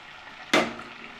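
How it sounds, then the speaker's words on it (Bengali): Sliced okra dropped into hot sunflower oil in a wok, one sudden loud hiss that flares up and then fades into a softer sizzle. "হালকা করে কিন্তু আমি ভেজে ভিন্ডিটাকে তুলে নিব"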